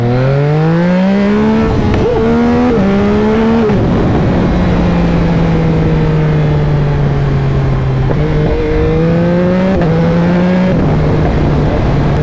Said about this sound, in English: Love those clutchless downshifts.